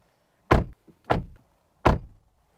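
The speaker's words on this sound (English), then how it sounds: "this is what the door sounds like" A Mercedes-Benz GLC SUV door slams shut three times, each a solid, heavy thud close by, with short pauses between and no talking.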